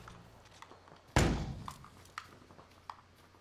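A frag grenade bursting in a shooter video game: one sharp, heavy thump that decays quickly, followed by a few faint taps and knocks.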